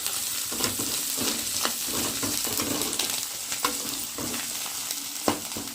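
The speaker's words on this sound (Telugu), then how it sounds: "ఈ ఫ్రై కొంచెం వెల్లుల్లి పేస్ట్ వేసుకొని బాగా ఫ్రై చేసుకున్నాం" Curry frying in a pan with garlic paste, a dense, close sizzle punctuated by repeated rhythmic stirring scrapes every second or so, moderately loud and without voices.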